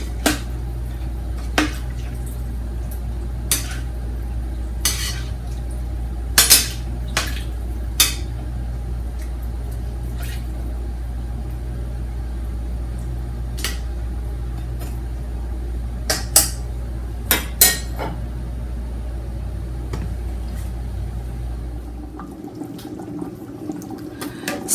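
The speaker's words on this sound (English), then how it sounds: "And I'm gonna give it a stir now." A pot of neck bones simmering on the stove is stirred, with sharp spoon clinks and scrapes against the pot over a steady low hum, and the background drops away near the end.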